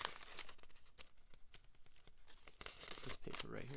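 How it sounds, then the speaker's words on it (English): Sheet of paper crinkled and torn close up, with a run of sharp rustling bursts and rips coming through bright and near. "this paper right here."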